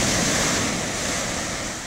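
Strong sea waves breaking on a beach, a loud continuous roar of surf with wind buffeting the microphone throughout, no voices present.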